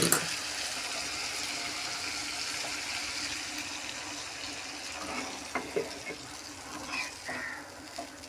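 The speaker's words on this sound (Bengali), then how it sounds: "হ্যাঁ, এবার আমি এর মধ্যে জল দিয়ে দেবো।" Water pours into a pot of browned mutton curry with a steady, close gushing hiss, then a few splashes and soft clunks near the end as the pouring tapers off.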